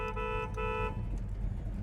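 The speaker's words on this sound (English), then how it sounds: "horn" Two short, bright horn blasts from a 1970 Chevrolet Chevelle with a 454 engine sound close by, followed by quieter low rumble.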